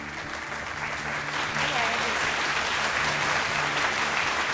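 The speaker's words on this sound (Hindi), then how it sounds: "आप सबकी भरपूर तालियों में रुमैसा खान।" A studio audience claps for a guest on a Pakistani talk show about Gen-Z issues, with steady applause swelling slightly and holding at a moderate, somewhat distant level.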